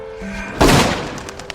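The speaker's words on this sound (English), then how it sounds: "The sound of a gunshot alerted the gardener." A single loud, sharp gunshot blast in a film, with a broad burst of noise that decays over about half a second, followed by quieter background sound.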